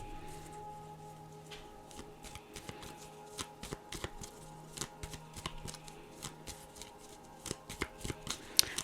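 Tarot cards being shuffled by hand in a quiet room, a steady run of soft riffling flicks and taps close to the mic, with no talking.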